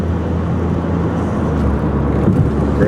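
A car engine pulls hard in third gear on a commute, giving a steady, loud low drone heard from inside the cabin that rises slightly toward the end, with no talking over it.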